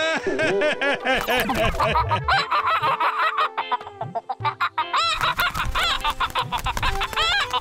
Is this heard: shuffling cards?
no